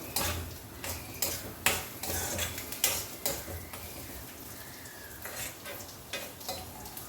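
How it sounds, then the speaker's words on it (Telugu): Green chillies and onions sizzle in an iron kadai as a spoon stirs and scrapes them, producing repeated sharp metallic clinks over a continuous frying hiss, close and moderately loud. "పచ్చిమిర్చి ఉల్లిపాయలు వేసేస్తున్నాం"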